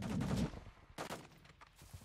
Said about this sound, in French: Ouais, c'est des snipers. Il nous tire dessus.